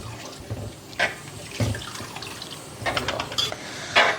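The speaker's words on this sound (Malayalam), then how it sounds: "2 കപ്പ് വെള്ളം കൂടെ ഒഴിക്കുന്നുണ്ടേ." Water pours steadily into a cooking pot for payasam made with milk, a continuous splashing stream with a few brief louder gushes, close up and without talk.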